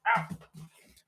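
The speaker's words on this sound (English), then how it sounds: "That's my dog." Hunting dog barking and whimpering close by, a loud sharp bark first, then softer whining yelps trailing off over about a second.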